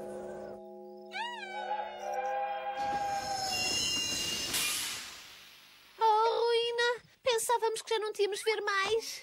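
A cartoon train rumbles along with a rising metallic squeal of wheels on rails, preceded by a whistle-like tone, then animated cartoonish voices talk loudly in European Portuguese.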